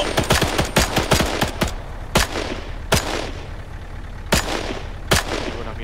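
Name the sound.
gunfire in video game Arma 3 military simulation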